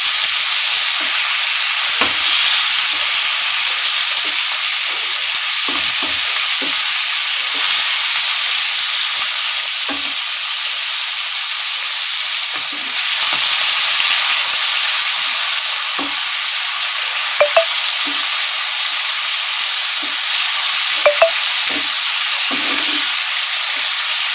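Fish sizzles steadily in a frying pan: a dense, continuous crackling hiss that stays fairly loud throughout, with small pops and spits scattered along and no voices.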